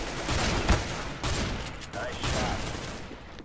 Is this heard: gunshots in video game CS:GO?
yes